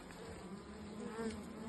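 Honey bees buzz around an open beehive while a super is being added, a steady, close, faint drone that swells slightly toward the end, with no talking.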